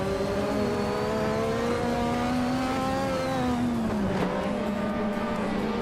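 Open-wheel race cars in a racing video game, one an Ozella, with a steady high engine drone that holds pitch, then dips and climbs again as it shifts, loud and continuous.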